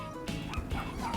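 An anxious, touch-sensitive dog gives a short, sharp yelp and a few whimpering cries, close and fairly loud over about a second, with no talking.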